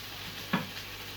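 Food sizzles steadily in a pan for dragonbreath chilli, a soft continuous fry with a single brief clink of a utensil midway.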